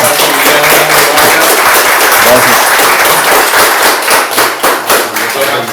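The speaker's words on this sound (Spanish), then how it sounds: "Un aplauso" Loud applause from an audience at a book presentation: close, dense clapping that swells and continues steadily, with some voices mixed in underneath.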